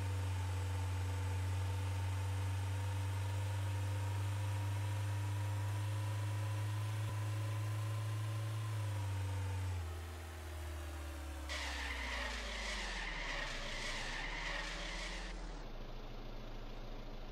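A car engine in the Trader Life Simulator video game drones steadily for several seconds, then shifts pitch as the car slows and turns, and a hissing tyre skid follows before easing off.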